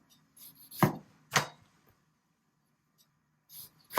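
A kitchen knife slicing vegetables into thin strips, a few sharp, close chopping thuds on a board separated by pauses, no voices.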